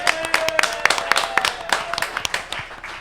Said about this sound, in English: Round of applause for Darren, everyone.